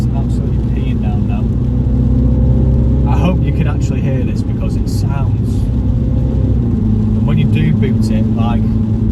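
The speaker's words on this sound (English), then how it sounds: "Definitely sounds like a sports car." Mini Cooper JCW engine droning steadily inside the cabin while driving through heavy rain, a loud, constant low hum that runs throughout with someone talking over it at intervals.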